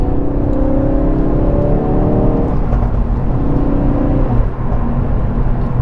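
A Mk3 Ford Focus RS fitted with a DSC sport controller drives along a road, its engine drone loud and steady throughout, with rising whining tones as it pulls and a brief gear change midway.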